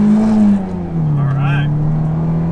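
A Toyota MR2 SW20 fitted with an aftermarket air intake revs hard close by, its loud engine note dipping briefly before holding a steady, strained pitch.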